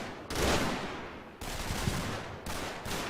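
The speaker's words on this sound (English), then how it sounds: "So this is a machine gun? Yeah, it is." Sustained machine gun fire in the wargame Combat Mission: Battle for Normandy, three long rattling bursts of steady automatic fire with short gaps between them, no talking.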